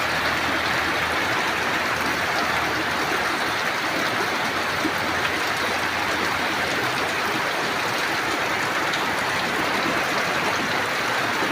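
Heavy rain falling steadily over a rice-growing area, a dense constant hiss and patter heard close and loud throughout, with no talking.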